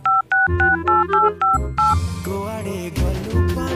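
A rapid series of short telephone dialing beeps, about eight distinct tones, followed by tonal music-like sounds.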